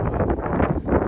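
Wind buffeting an earbuds microphone outdoors in a windy spot, a steady loud rumbling roar with gusty swells that fills the whole moment.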